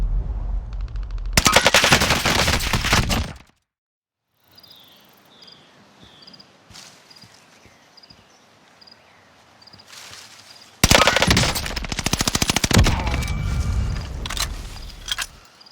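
A Bren light machine gun fires in the Call of Duty: Warzone video game as two loud sustained bursts, separated by a quieter stretch of game ambience with chirping, insect-like tones and small clicks.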